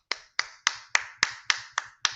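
Eight sharp, evenly spaced hand claps or snaps in quick succession, close and crisp with short decays, alone with no talking.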